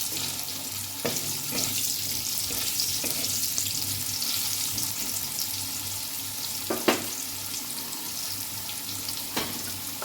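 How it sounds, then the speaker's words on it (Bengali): Potatoes frying in a pan for a spinach, radish and bori dish, a steady continuous sizzle with a few sharp knocks and scrapes over it, no voices. "আলুগুলো একটু ভেজে নেব।"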